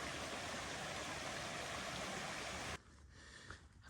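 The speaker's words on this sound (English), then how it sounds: "where I camped for the night, right by a little brook." A little brook flows beside a campsite on the Appalachian Trail in New Hampshire, a steady close rushing wash of water that cuts off abruptly, leaving a fainter background hiss.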